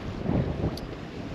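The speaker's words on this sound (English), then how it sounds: "This wind is blowing up against that bank so hard." Strong wind sweeps across a lake and buffets the microphone with a steady, loud low rumble and rushing noise, with no other distinct sounds.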